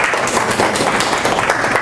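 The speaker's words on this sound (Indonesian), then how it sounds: "Tepuk tangan." Applause in a classroom-style teaching session, a steady patter of hand clapping from a small group filling the short stretch without pause.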